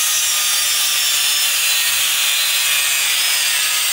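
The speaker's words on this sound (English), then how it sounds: "Why are we cutting the Nismo power brace, Luke?" A Nismo power brace on an S13 being cut with a power tool, a loud, continuous, harsh grinding rasp that stays steady and close without letting up.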